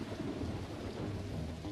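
Heavy storm rain pours down without a break, and deep thunder rumbles under it as the weather suddenly turns from sunny to extreme.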